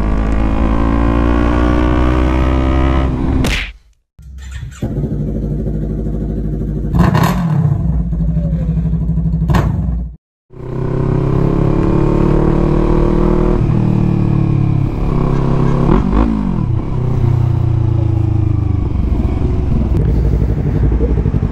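Yamaha MT-03 motorcycle engine on a ride, loud and close, droning with rising and falling revs, several gear shifts marked by brief drops, and wind rushing over the mic throughout.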